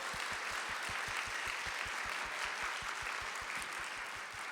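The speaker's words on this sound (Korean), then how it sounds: "하나님께 영광의 박수를 해드릴까요?" A church congregation claps in unison, a steady rhythmic beat of many hands at an even tempo, sustained under a soft wash of room noise.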